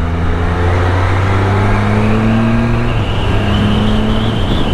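A Can-Am vehicle engine revving loud and close, pitch climbing through each gear then dropping at the shifts, several gear changes in quick succession with no talking.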